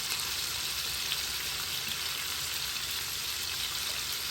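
Meatballs fry in a pan with a steady, faint hiss of sizzling oil that is even and continuous, with no talk.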